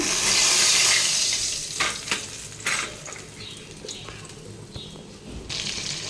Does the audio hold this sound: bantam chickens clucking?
no